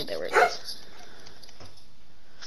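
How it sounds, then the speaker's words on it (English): A dog gives a brief, somewhat distant bark near the start, heard in a Minecraft-style game session, followed by a short spoken remark over quiet background. "So if you guys heard that barking"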